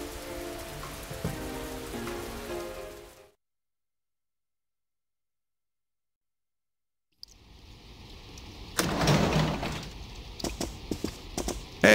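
Rain in Persona 4 patters steadily on surfaces. A soft music-backed stretch cuts to silence, then the rain returns as a constant hiss with a louder swell of drops partway through.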